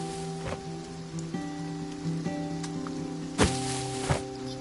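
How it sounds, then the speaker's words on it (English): Light rain patters softly in the Farm Together video game beneath sustained musical tones, with a few brief, sharper thuds. "I love hearing the raindrops."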